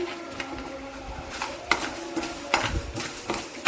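Mustard seeds are fried in oil in a pan while tempering for a bottle gourd chutney. The oil crackles with scattered pops, and metal clinks and scrapes of a spoon against the pan stand out near the middle and end. No voices are heard.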